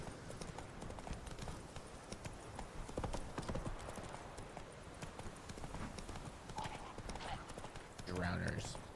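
Roach the horse's hooves clip-clopping at a steady trotting rhythm through The Witcher 3 game world, close and continuous, layered with ambient game sound and someone talking over it.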